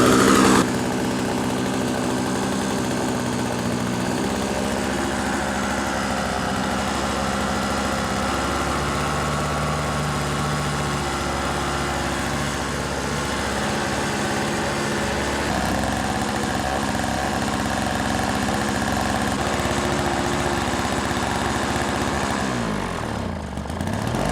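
A Toro CCR 1000 snowblower engine runs steadily at raised RPM after a carburetor adjustment, a loud continuous small-engine drone with a slight pitch shift midway before it winds down at the end.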